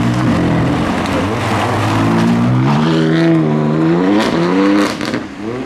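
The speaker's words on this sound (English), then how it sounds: "he's revving quite a bit" A loud Mini engine revs hard against the limiter while leaving a car show, pitch rising and falling in repeated surges close by, before easing off near the end.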